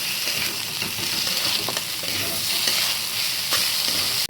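Rice and tomato fry with tempering spices in a pan for Bengali-style khichdi, a steady loud sizzle broken by scraping, clattering stirs close up, with no voices.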